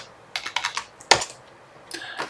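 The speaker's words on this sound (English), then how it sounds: "Now I'm just going to click here and type in my password" Password being typed on a computer keyboard during a Rocky Linux 8.5 setup, heard as several short bursts of quick key clicks separated by brief pauses, close and fairly clear with no talking.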